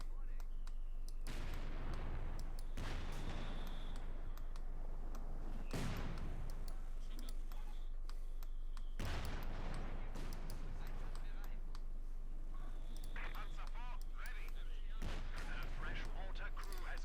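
In Company of Heroes 2, mortar and artillery rounds land in several heavy, spaced booms amid scattered gunfire on a distant battlefield, with a voice commentating over the action.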